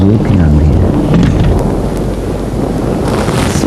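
A night thunderstorm roars with strong wind, a steady, loud rush of rain and gusts with low rumbling throughout, dense and unbroken, with no voices.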